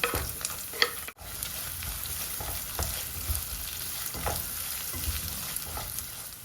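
Dried red chillies, fresh curry leaves and chopped onion fry in hot oil, giving a steady close sizzle with occasional stirring scrapes and a brief dip early on; no voices.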